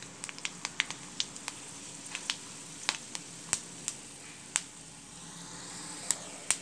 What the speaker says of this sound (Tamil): இப்போ எண்ணெய் காஞ்சாச்சு, கடுகு போட்டுடலாம், கொஞ்சோண்டு உளுத்தம் பருப்பு, கொஞ்சோண்டு கடலைப்பருப்பு, வெந்தயம் கொஞ்சம் நிறையவே போட்டுக்கலாம்.